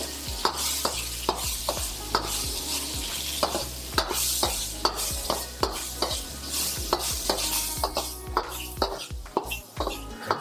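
Shrimp fry in neutral oil in a hot wok, a constant sizzle broken by a regular run of sharp metallic scrapes and clanks as a spatula stirs, close and loud.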